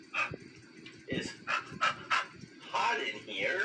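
A voice imitates a dog's panting, breathy rhythmic huffs voicing the letter H, with soft speech around them.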